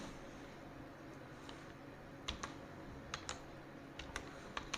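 Quiet computer-keyboard typing while a name is entered into a spreadsheet: a few sparse, crisp key clicks in short bursts over a soft room hiss.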